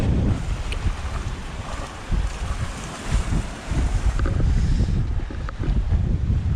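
A sailboat motors through big waves off Beef Island in the British Virgin Islands, with a steady roar of wind buffeting the microphone over surging water and hull slaps, loud and continuous with no talking.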